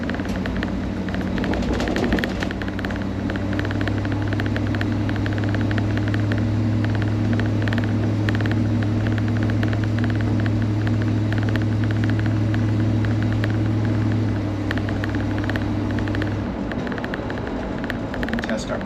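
Range Rover Classic overland rig driving with its interior stripped out: a loud, steady engine drone and road rumble fill the cabin throughout, with people talking over it.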